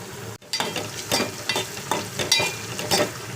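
Ginger paste frying in hot oil in a pan for an Indian egg fry, a loud close continuous sizzle with pulsing bursts as it is stirred.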